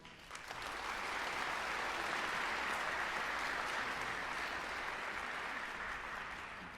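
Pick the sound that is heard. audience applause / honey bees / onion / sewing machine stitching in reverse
audience applause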